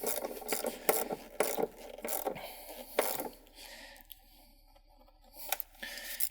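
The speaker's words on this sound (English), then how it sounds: "You can kind of tighten it by hand a bit and then finish it with your tool." A hand tool tightens the terminal on a 12V battery in a Volkswagen ID.4, giving a series of close, rasping ratchet strokes in quick bursts, then quieter scraping and a few light clicks.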